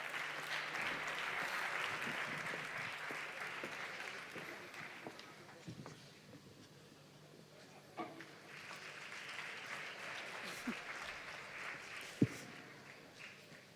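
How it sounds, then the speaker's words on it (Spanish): A crowd at a 2019 sports awards gala applauds a music group, the steady applause filling a large hall for over ten seconds before easing off, with scattered voices and a few sharp knocks. "¡Fuerte el aplauso!"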